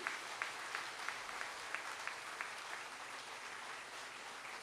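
An audience at a speech event of a humor club claps continuously, a dense, fairly distant wash of applause with a few sharper individual claps standing out.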